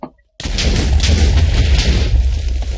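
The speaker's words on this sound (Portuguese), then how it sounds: "Vamos jogar uma bomba nela." A bomb detonates in Minecraft, a sudden loud boom bursting in after near silence and then a dense, roaring rumble that holds steady for the rest of the moment.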